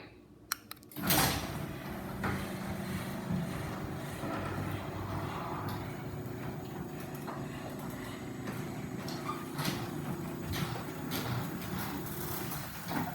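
Chamberlain C203 garage door opener driving the door open: a sharp click and thump at the start, then a steady mechanical rumble and rattle of the door travelling along its track, with no voices.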